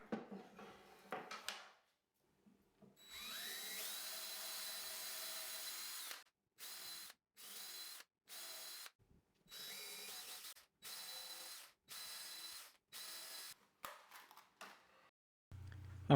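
Several short bursts of a power drill whirring as it drills screw holes, starting and stopping in a broken rhythm, with a few clinks of metal between runs.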